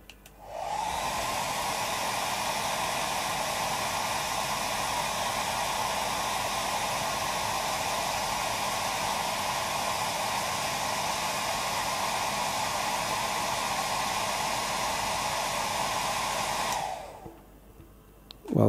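A hot air blower roars steadily and close for about sixteen seconds, heating a Sony PCM-501ES or PCM-701ES digital audio decoder, then cuts off abruptly near the end.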